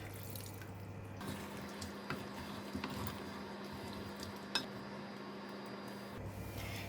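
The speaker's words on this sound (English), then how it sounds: "I'm going to add a bit of water, about 1 cup of water" A steady stream of about a cup of water runs and splashes into a pot of cooking chicken kurma curry for several seconds, quiet and close, with a faint hum underneath.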